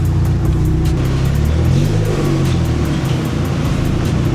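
Engine of a Tamiya owner-type jeep revving close by, a loud steady roar with strong low harmonics rising and falling slightly over several seconds.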